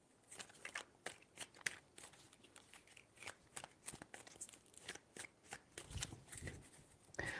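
Tarot cards being shuffled close up, a rapid run of crisp riffling and slapping bursts repeating steadily, fairly quiet with no talking.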